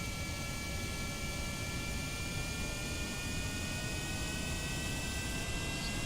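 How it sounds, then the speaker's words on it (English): Jet engines on a plane in Kerbal Space Program spool up into a steady, loud, even roar with a faint high whine running through it. The roar holds constant for the whole stretch, with no voices. "let's get these engines going. Let's get this puppy in the air"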